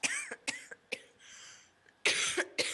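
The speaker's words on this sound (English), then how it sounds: "Feel free to cough." Several sharp coughs in quick bursts, near and fairly loud, with short quiet gaps between them.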